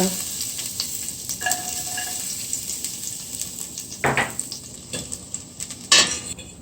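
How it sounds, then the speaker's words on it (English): Garlic sautés in hot oil in a cooking pot, making a continuous close sizzle with scattered clinks and scrapes of a utensil against the pot. "Now that the garlic sauteed in the pot"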